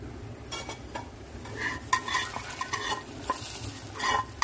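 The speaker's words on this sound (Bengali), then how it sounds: "পুরো বাগারটা আমি দিয়ে দিচ্ছি" A hot baghar tempering is poured into sour mango dal, bringing a soft sizzle with scattered metallic spoon clinks and stirring scrapes, fairly quiet and close.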